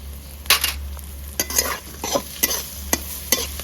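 Onions and green chillies frying in a pan and stirred steadily. A spoon scrapes rhythmically over a continuous sizzle, up close, with a low hum underneath and no voices.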